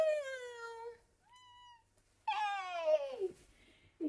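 A cat lets out a few drawn-out, whiny meows, close and clear, separated by short pauses.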